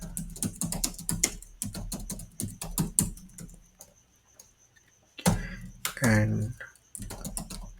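Rapid clicky keystrokes on a computer keyboard as code is typed, steady bursts of close taps running throughout with a voice speaking over parts of it.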